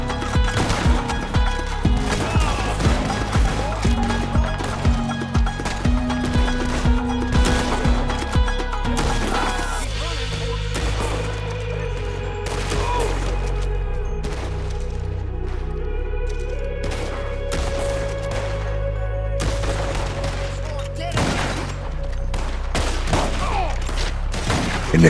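Dense, relentless gunfire in Red Dead Online crackles in rapid overlapping bursts for the whole stretch, loud and close, with sustained tonal hums running underneath.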